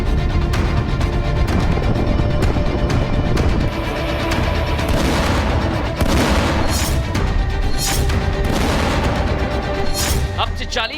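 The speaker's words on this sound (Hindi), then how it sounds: "ये जो बमबारी हो रही है दर्शकों IDF के द्वारा, परमाणु ठिकानों को निशाने पर लिया जा रहा है" Heavy booms and rumbling blasts from bombing strikes on nuclear sites, dense and continuous with repeated sharp explosive bursts over a loud roar.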